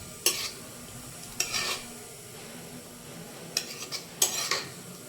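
Agathi keerai greens stirred in a pan, heard as a few separate short bursts of spatula scraping and light sizzle spread across a quiet background, close but soft.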